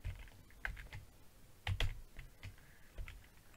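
Keys clatter on a computer keyboard in short, uneven bursts, with a brief flurry of louder strokes midway, close and fairly quiet with no talking.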